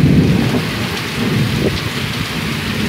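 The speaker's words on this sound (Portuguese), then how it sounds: "tá caindo muito raio, eu vou entrar dentro de casa" A heavy thunderstorm with lightning pours rain down on a rural farm property, giving a loud, dense, continuous roar of rainfall with rumbling thunder underneath.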